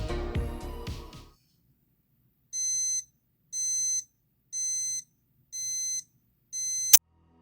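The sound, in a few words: Casio QL-10 calculator lighter countdown timer alarm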